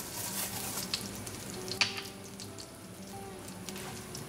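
Cumin seeds sizzle in olive oil and melting butter in a pan, a steady close-up hiss with a single small clink partway through and no talking.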